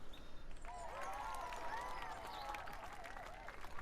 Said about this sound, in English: Good start. We got him clapping.